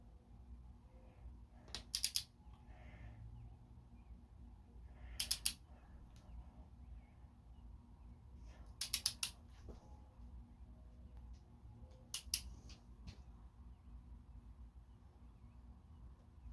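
A torque wrench tightening bolts on a Honda Civic EK engine during piston and ring installation, giving four sharp metallic clicks spaced a few seconds apart over faint background hum.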